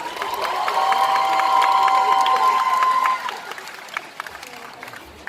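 Audience applause and cheering at a cosplay contest, a dense crowd roar with whistles and shouts sustained for about three seconds before thinning into scattered claps and cheers.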